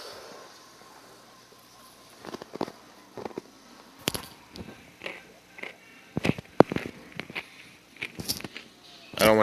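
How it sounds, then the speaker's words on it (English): A person chews food close to the microphone, making irregular soft crunches and clicks that grow busier toward the end over a quiet background. "don't want you guys to hear me chew."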